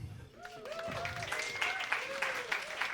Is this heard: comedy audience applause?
yes